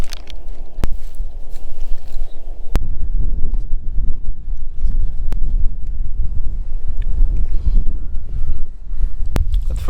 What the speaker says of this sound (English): the wind was blowing too hard